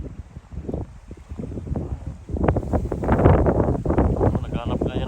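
Wind gusts rumble across the microphone outdoors during bird migration, building stronger halfway through, with people talking underneath.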